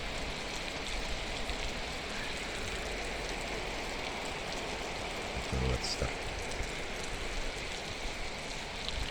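Heavy spring downpour in Mangystau, a dense steady hiss of rain pounding surfaces close by, with a brief voice and a few faint knocks partway through.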